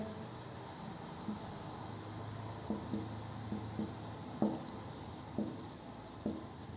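Numbers are written by hand during a place-value lesson, with faint, scattered taps and scratches of pen or chalk over a quiet room hum.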